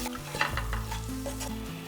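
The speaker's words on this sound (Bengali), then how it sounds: "এরপর আবার একটু নাড়াচাড়া করে নিচ্ছি।" Potatoes and onions frying in a pan with a little turmeric and salt are stirred, giving a close, steady sizzle with scraping stirs throughout and no voices.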